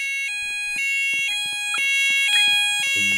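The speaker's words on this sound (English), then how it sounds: "We are investigating an alarm condition." A fire alarm in an Asda supermarket sounds loud and close, a repeating electronic tone pattern that pulses about every half second, with no voices over it.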